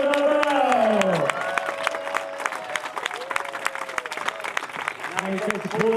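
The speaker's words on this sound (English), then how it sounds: "A round of applause, Team AkzoNobel." A crowd on the dock in Lisbon claps and cheers for Team AkzoNobel as the sailing crew finishes Leg 1 of the 2017-18 ocean race, with scattered claps over steady crowd noise and a voice talking through it.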